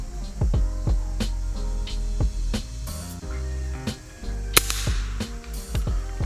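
Eleven shots from a Hatsan Flash .22 caliber PCP air rifle fired outdoors at a shell target, sharp loud cracks at irregular intervals of about half a second to a second, close by and without talk.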